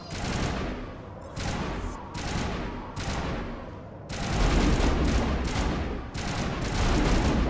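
Sniper rifle shots in the video game Mass Effect, sounding as a string of sharp, loud cracks and booms spaced a second or so apart, each with a short rumbling tail.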